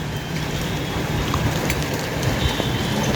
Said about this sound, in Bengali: বৃষ্টি শব্দ পাচ্ছেন আপনারা?